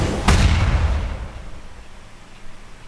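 Sword skill in Guild Wars 2 that unleashes a volley of explosions: one loud, sharp blast, then a deep rumbling decay that fades over a couple of seconds, with no voices.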